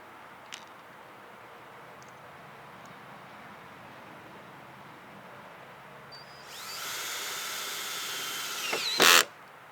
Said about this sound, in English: We do that by using self-tapping Phillips head screws right in these two holes here into the lunar channel.